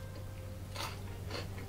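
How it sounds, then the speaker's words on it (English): A South African milk chocolate bar with a crispy wafer and filled biscuit centre cracks apart in two quick, close, crisp snaps, about half a second apart. "Let's crack this open, show you the middle."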